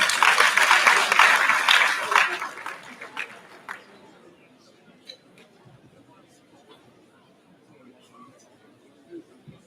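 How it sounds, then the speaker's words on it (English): Audience applauding the rector at a polytechnic convocation in Plateau State, a loud burst of clapping and crowd chatter that fades after a few seconds into quiet murmurs and scattered sounds. "Please, can we give the rector another round of applause?"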